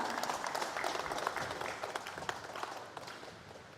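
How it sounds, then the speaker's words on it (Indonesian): A crowd gives steady, lively clapping for the governor at a North Maluku ceremony, a dense patter of many hands that is somewhat faint and distant and slowly tapers off. "Boleh kita berikan apresiasi dengan tepuk tangan yang meriah"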